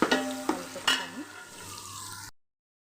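Chicken pieces stirred through hot frying oil in a pan for chicken fry pulao, with a few sharp scraping strokes over a sizzle that fades and cuts off.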